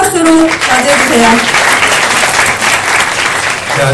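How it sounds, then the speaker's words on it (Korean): A student audience at an arts school council inauguration applauds a student speaker, loud, dense clapping filling the hall throughout, with a voice and some crowd murmur over it. "여러분 뜨거운 박수로 맞이해주세요."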